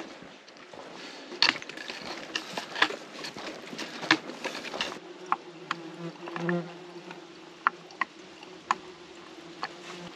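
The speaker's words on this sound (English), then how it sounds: "There's so much bee, right?" Bees and other flying insects buzz around a high hiking trail on the Lycian Way, with repeated close passes and sharp flybys over a steady outdoor hum, and no talking.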